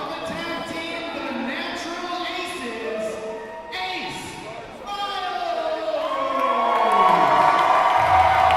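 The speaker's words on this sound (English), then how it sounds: "this Rossford crowd coming to life to show love for the hometown boy, Ace Myles" Hometown crowd in Rossford cheering for wrestler Ace Myles at an independent wrestling show, loud shouting and whooping that swells toward the end, with voices and crowd noise mixed in.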